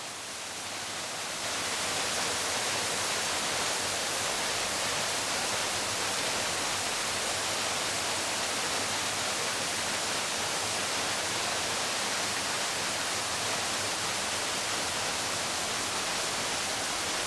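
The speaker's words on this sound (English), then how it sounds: "Well, here we are at the waterfalls." A waterfall of roughly 80 to 100 feet in woodland near Ambleside in the Lake District roars as a steady, loud broadband rush that holds unbroken throughout, with no voices.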